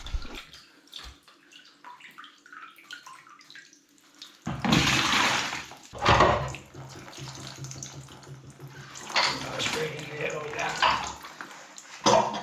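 Water trickling and splashing out of an opened radiator valve on old iron pipework, a quiet patter at first that swells into louder rushing bursts, with someone talking over it.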